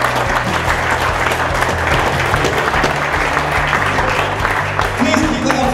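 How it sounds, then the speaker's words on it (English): Applause from a pub audience at a live Stags football club storytelling night, a dense, steady wash of clapping that stays loud throughout. "Please keep that applause going"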